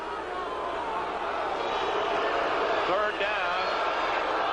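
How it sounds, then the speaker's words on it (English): A loud, vocal football crowd at a 1980 Pittsburgh at Minnesota game reacts to a play, a steady broad roar of voices with an announcer talking over it. "It's a very vocal crowd, however, and they announce how they feel about that particular play"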